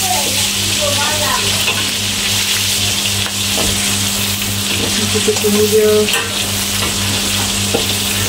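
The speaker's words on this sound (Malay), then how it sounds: "pakai buat tumis ni pakai minyak goreng ayam tadi ya." Food sautés, sizzling and crackling steadily in hot leftover chicken-frying oil, close and loud, with occasional stirring clinks and a brief spoken remark over it.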